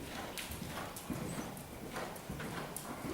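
Horse hooves clip-clop at a walk on a home property, faint and somewhat distant under steady broadband noise.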